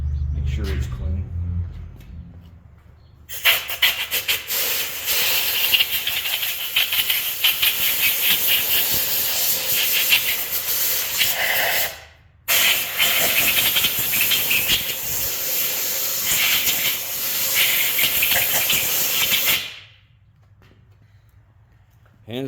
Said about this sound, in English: Hands down, the absolute best blowgun I've ever had.